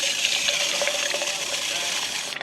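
Water pours steadily into a self-watering flower box planted with yarrow and viola at a garden shed, a continuous close, bright gushing stream that stays even throughout and cuts off abruptly at the very end.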